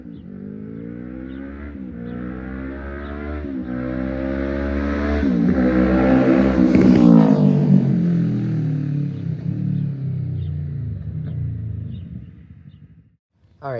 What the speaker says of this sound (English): that concludes the video for the Yashimura AT2 full exhaust system sound test